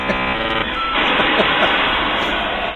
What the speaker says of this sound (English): This is the sound of two modems actually having a conversation.